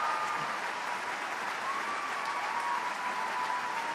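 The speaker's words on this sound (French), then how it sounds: "On peut les applaudir très fort encore." An open-air audience at the Chorégies d'Orange festival concert applauds, a dense continuous wash of clapping from a large crowd heard at a distance, steady and sustained without pause.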